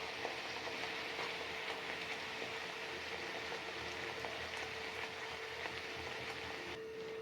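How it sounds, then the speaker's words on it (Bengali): Luchi, a puffed flatbread, frying in hot oil, with a steady dense bubbling sizzle that holds at an even moderate level throughout without any voices. "এভাবে একে একে ভেজে নেবেন।"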